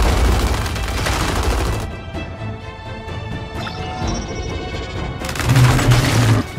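Gears 5 combat: dense bursts of gunfire and grenade blasts crash loudly at the start, ease into a quieter stretch with scattered shots and debris, then erupt into heavy booming explosions near the end.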